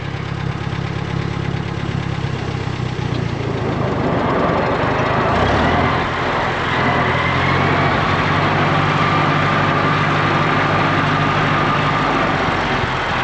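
A Volkswagen Bug engine, with a sticky clutch and a frozen, cracked transmission, fires up and runs at a loud, close, steady idle that grows rougher and more forceful partway through, with no voices over it.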